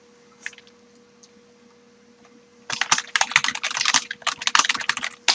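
Fingers type on a computer keyboard, a rapid close clatter of key clicks starting partway through after a quiet stretch with a low hum and a couple of faint taps.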